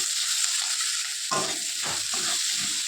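Spices frying in a pan with potato, steady close sizzle throughout and a few scraping stirs in the second half, no voices.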